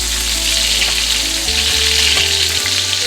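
Pork chops frying and sizzling in butter in a pan, a loud, steady close sizzle that carries on without pause and with no one talking.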